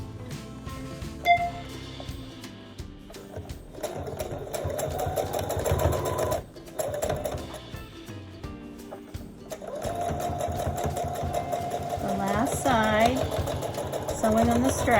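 A sewing machine stitches fabric straps onto a cloth mask, its motor whirring in long steady runs broken by short pauses, close up, while someone talks over it.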